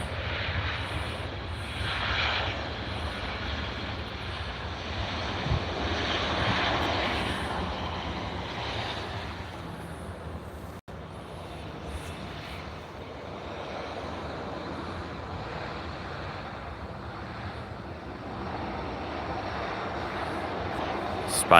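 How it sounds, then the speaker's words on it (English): An easyJet airliner arriving from Madrid at Edinburgh Airport makes a steady, fairly distant jet roar that holds on for the whole stretch, with no talk over it. "Here's the easyJet from Madrid."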